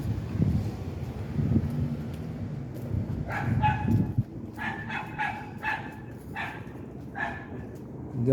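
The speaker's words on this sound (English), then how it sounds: "Dog making some noise." Dog barking on an evening residential street in Queens, New York City: a series of sharp barks and yips arrives in uneven bursts at moderate distance over low wind and street hum, with faint talk underneath.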